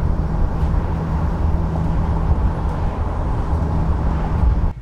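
Classic Ford Mustang restomod driving on a road, a steady loud engine drone and tyre roar from inside the car, continuous with no talk.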